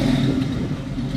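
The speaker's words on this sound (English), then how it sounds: "It's got a nice dual exhaust with Flowmasters on it." A close 1971 Ford Ranchero 500 engine rumbles loudly through a dual Flowmaster exhaust with a deep, throaty tone, pulsing slightly as it revs.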